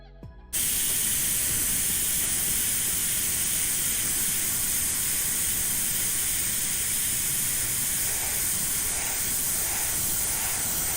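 A spray gun dusting white paint mist gives a loud, continuous hiss that starts abruptly and holds steady without pause, with no talking over it.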